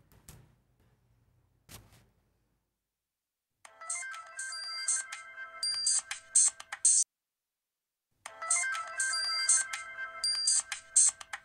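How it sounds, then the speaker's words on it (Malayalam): A phone ringtone plays in two loud bursts of a repeating electronic melody, each several seconds long with a short silent gap between, after a couple of faint knocks at the start. "ഫോൺ എടുക്കളയാ"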